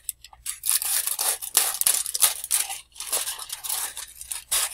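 Scissors snip and slice through a sheet of aluminum foil, giving a crisp, crinkly crunching that comes in repeated close bursts for several seconds, with no talking over it.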